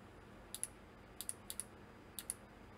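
Clicky mechanical keyboard switches, including a locking function key, pressed several times in quick pairs; sharp, close, isolated clicks against a quiet room.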